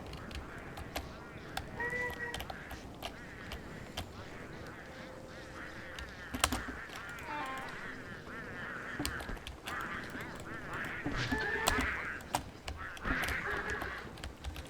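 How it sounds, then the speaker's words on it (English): Pangolls, penguin-seagull creatures in the video game Don't Starve, honk and quack in a cluster of repeated nasal calls over a low ambient game background, some calls overlapping, at moderate loudness. "there's the pangolls, everybody. As you can see, they're like a cross between a penguin and a seagull."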